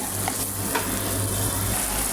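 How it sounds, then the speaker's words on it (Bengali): Chillies and tomatoes fry in a pan while being stirred, a continuous dense sizzle with a faint stir or two and a low hum underneath, no voices. "মরিচ দেব, টমেটো দেব। ভালো করে নেড়ে ছেড়ে দেব।"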